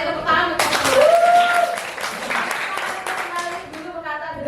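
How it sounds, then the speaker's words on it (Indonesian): Children in a classroom clapping their hands together, a short burst of close clapping with young voices mixed in that fades to chatter. "Ayo tepuk tangan."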